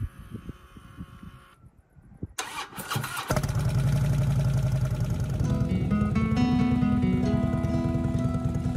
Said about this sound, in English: first time hearing the motorcycle